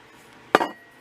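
A hammer strikes the metal of a 1 lb propane tank being made into a stove, a single sharp close clank with a brief ringing tail in an otherwise quiet space.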